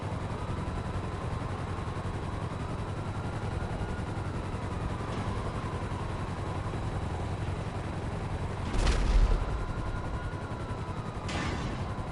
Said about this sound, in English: The helicopter just exploded.